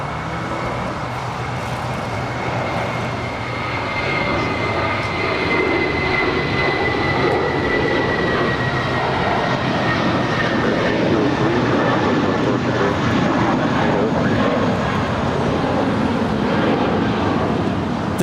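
An American Airlines A319 airliner takes off from runway 25 right at LAX, its engines a broad, sustained roar with a faint whine that hangs steadily at a distance throughout.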